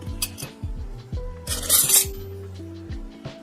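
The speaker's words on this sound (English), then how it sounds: "Got random fiddleback form spoons here" Rogers X12 silver-plated fiddleback spoons clink and rattle as they are handled, giving a string of close, bright metallic taps with a brief jangling cluster in the middle over a steady low hum.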